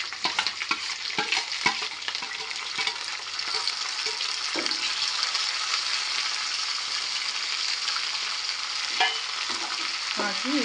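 Chopped onion, tomato and green chili frying in oil while being stirred: a continuous close sizzle with rapid spatula scrapes and knocks against the pan, busier at the start.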